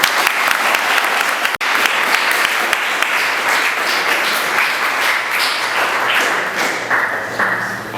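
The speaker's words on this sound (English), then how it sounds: "you all would give him a round of applause" An audience at a football signing ceremony at Tipton Rosemark Academy gives a loud, continuous round of applause, with dense clapping throughout and a single sharp thump partway through.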